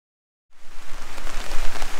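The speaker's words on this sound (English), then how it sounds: "you can hear that rain going" Heavy rain pours down steadily onto an umbrella at a house construction site in the Philippines, a dense, loud hiss that starts abruptly after a brief silence and continues without letup.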